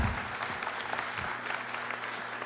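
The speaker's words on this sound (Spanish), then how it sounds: "Un aplauso también para Ana" Students at a university business school induction applaud a speaker named Ana, moderate steady clapping with a few low thumps early on.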